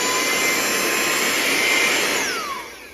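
A handheld portable car vacuum, a 4-in-1 car vac and air duster, whines steadily at a loud, high-pitched motor tone, then its pitch slides down as it begins to wind off near the end, heard close with no talking.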